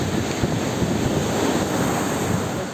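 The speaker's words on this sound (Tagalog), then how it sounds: "Ay, alon." Ocean surf breaking steadily on a beach in Zambales at low tide, a continuous close, loud wash of foamy waves with wind buffeting the microphone throughout.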